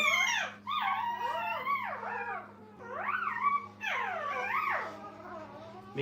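Puppies in a kennel whimper, whine and howl in overlapping high, wavering cries, with fussy yips and growls throughout, close and fairly loud with brief pauses.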